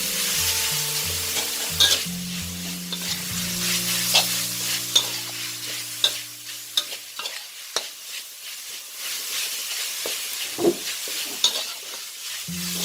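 Pork belly stir-fried with pounded curry paste in a pan: repeated scraping stirs and clanks over a crackling sizzle, with a faint musical tone in the first seconds.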